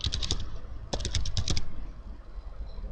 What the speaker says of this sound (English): So here I can type anything.